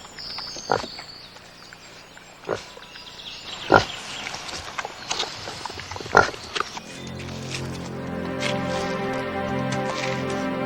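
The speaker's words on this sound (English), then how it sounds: "a highly trained Vietnamese pot-bellied pig, deployed by the police against New Jersey drug dealers" Vietnamese pot-bellied pig, a trained police animal, grunting and snuffling up close with several sharp louder grunts, followed by a steady background rumble of livestock or machinery.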